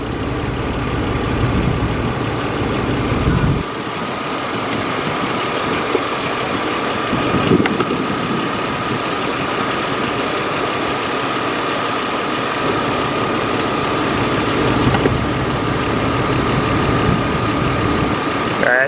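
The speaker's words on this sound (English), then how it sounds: "That's it running at idle right now." A BMW E46 engine with an EGR delete and an exhaust leak idles steadily and loudly up close, a continuous even rumble with slight fluctuations throughout.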